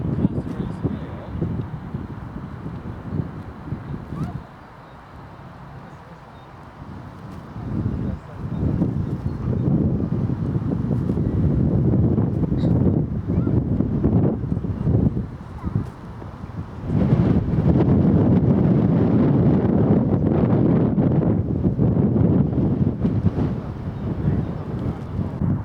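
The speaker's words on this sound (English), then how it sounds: "Quite windy up here." Strong gusts buffet the microphone in a steady, heavy roar that surges and eases, loudest toward the end, outdoors on an exposed hilltop near Winchester.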